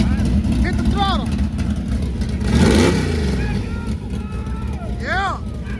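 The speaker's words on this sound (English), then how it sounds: "Hit the throttle." Car engine revving hard at an outdoor car show, a loud sustained roar swelling to a peak midway and easing off, heard over crowd chatter and nearby voices throughout.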